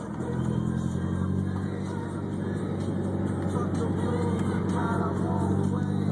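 A car drives steadily during a police helicopter chase, with a continuous close engine hum and road rumble, and people talking over it inside the cabin.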